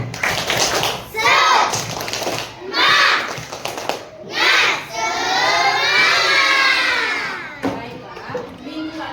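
A group of schoolchildren in a classroom shout and chant together in loud bursts, with clapping mixed into the rhythmic, energetic call-and-response of a 'tepuk semangat' clapping cheer.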